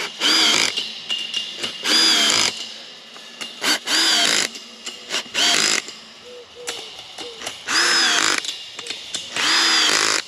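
A cordless power tool set to maximum torque tightens brackets onto steel fence posts in repeated loud bursts, each whirring spurt followed by a short pause, several cycles in a row with no talking.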